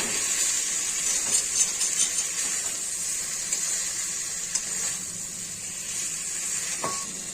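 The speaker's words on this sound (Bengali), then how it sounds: "এবার চিংড়ি মাছগুলোও ছেড়ে দিলাম, সবগুলো সুন্দর করে কষাবো।" Prawns fry in a pan for echor chingri, a prawn and green jackfruit curry, giving a steady high sizzling hiss with faint, occasional stirring clicks and no talking.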